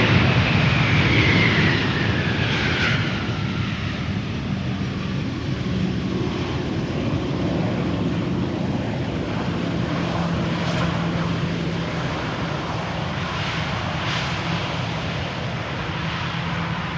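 An Electra Airways airliner arriving at Amsterdam Schiphol from Nador, its engines giving a steady broad roar that holds at fairly even loudness, with a faint falling whine early on and no talk.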